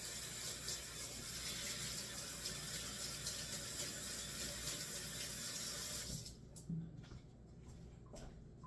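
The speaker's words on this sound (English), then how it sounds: "We're gonna wash our hands." Hands are washed under a running kitchen tap before cooking, a steady loud water rush that stops abruptly after about six seconds, followed by small drips and handling sounds with no talking.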